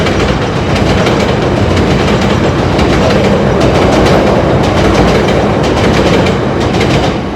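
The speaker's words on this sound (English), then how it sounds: "the train decided to, you know, just come through" A train rolls past close by, a loud, continuous roar with steady clickety-clack of rail car wheels over the joints, filling the whole stretch without any talking.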